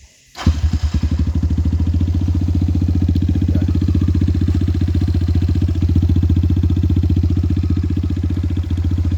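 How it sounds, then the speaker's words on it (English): Air-cooled Kayo T dirt bike engine with a Honda CRF-style design starts and settles into a steady, loud idle close by, a constant throbbing putter that runs on alone without revving. "So they're like a air-cooled sort of Honda CRF type engine."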